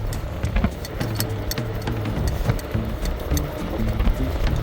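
Varla Eagle One V2.0 electric scooter pulling away hard in mode 3 with both motors running, a steady mid-pitched motor whine rising in tone beneath heavy wind rumble, with rattling clicks throughout.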